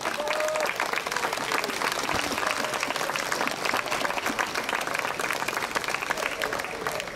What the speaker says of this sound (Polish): A teraz niech brawa rozlegną się w mieście.